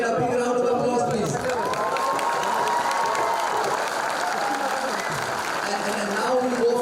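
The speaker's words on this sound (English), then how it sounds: "Once again, a big round of applause, please." Audience in the Rang Ghar Auditorium at a literary festival applauds steadily for several seconds, a dense sustained clapping with a few voices and cheers mixed in.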